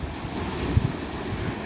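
Surf rolls onto a white sand beach in San Diego, a steady roar of breaking ocean waves mixed with gusty wind buffeting the microphone, with one brief thump partway through.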